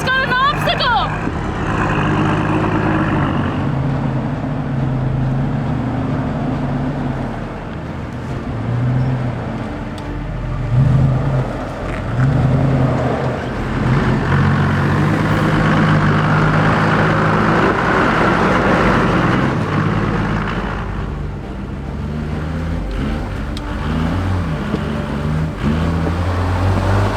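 Off-road vehicle straining on a rough, gnarly track, its engine roaring and revving unevenly as the wheels spin for grip, close and loud, with people talking over the motor.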